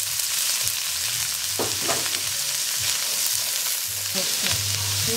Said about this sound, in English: so now I'm adding the onion and the garlic here